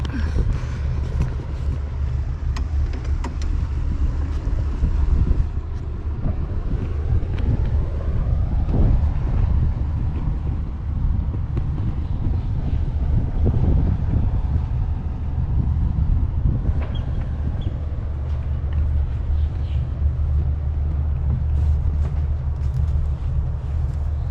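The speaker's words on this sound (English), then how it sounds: "There goes the pilot boat." Pilot boat passing on open water, a steady low engine rumble under heavy wind buffeting on the microphone, sustained throughout with no talking.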